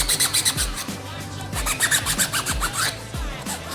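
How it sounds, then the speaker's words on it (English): 80 grit sandpaper rubbed back and forth to scuff a surface, a rhythmic series of close, raspy strokes about two per second, each with a gritty scratch, alone with no voices. "I've just got some 80 grit sandpaper. I'm just going to"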